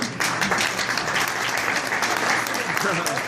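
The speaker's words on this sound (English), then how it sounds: "Round of applause as he comes forward." Audience applause at a live magic show, a dense steady wash of many hands clapping close by, sustained and even throughout with no pauses.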